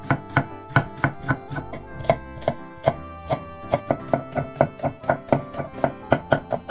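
Rapid, rhythmic knife chopping of onion on a cutting board, close and loud, with a brief pause before the strokes quicken into a steady fast mince.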